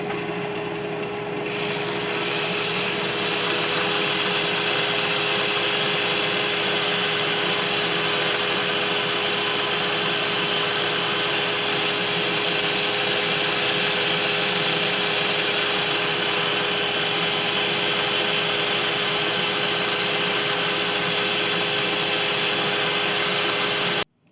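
A power sander whirs steadily and loudly while sanding a large live-edge cherry wood bowl, a constant high buzzing drone that cuts off abruptly at the end.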